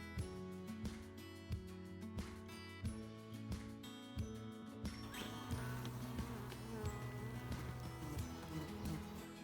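Bees hum in a dense swarm around a beehive with queen cells, a constant close buzz under repeated sharp knocks and clicks from hive handling, very faint overall.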